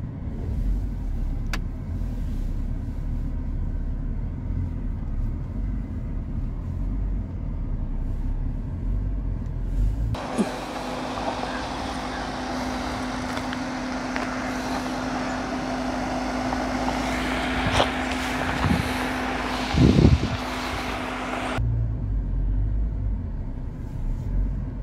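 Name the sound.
Mahindra Scorpio N diesel climbing uphill in four-wheel drive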